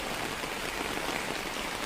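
Heavy rain pours steadily in Kannur, Kerala, during flooding that has turned roads into rivers, a dense, constant hiss of drops on surfaces with no voices over it.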